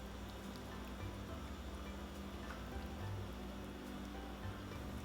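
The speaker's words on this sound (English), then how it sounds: "pour in the hot water." Hot water poured into a large bowl over sliced tofu, a steady close splashing stream running the whole time without a break.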